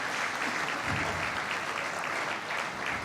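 Dense, sustained audience applause at an annual foundation celebration, a steady full crowd of clapping without pause, moderately loud and even throughout.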